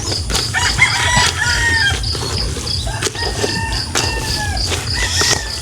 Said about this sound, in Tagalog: So ibigay na po natin ito sa ating mga alagang manok.